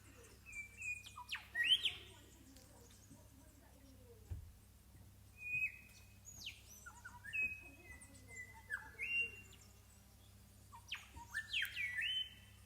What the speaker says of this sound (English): I don't know if you can hear those birds, but they're making a beautiful song.